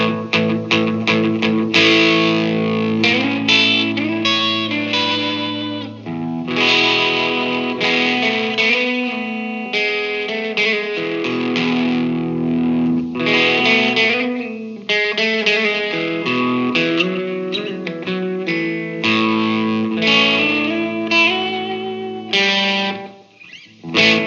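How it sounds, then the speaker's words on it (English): An electric guitar is played through a transistor tape echo effect set as a short slapback, into an Orange O Tone 40 amp, with sustained distorted chords and riffs continuing for a long stretch with no talk. "the transistor tape echo."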